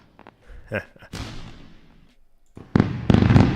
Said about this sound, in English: Let's go for a round of fireworks.